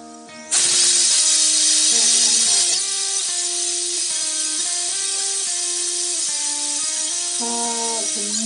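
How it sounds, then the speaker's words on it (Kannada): A pressure cooker whistles loudly, releasing a continuous hissing jet of steam while vegetable pulao cooks; the sharp whistle starts abruptly, holds steady for several seconds, then eases to a slightly softer sustained hiss. "ಕುಕ್ಕರ್ ಸೀಟಿ ಬರಾಕತೈತಿ ನೋಡ್ರಿ"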